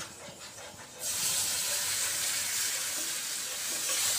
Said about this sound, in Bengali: এবার খুব ভালো করে বাটারটার সাথে ময়দাটা একটুখানি ভেজে নেব।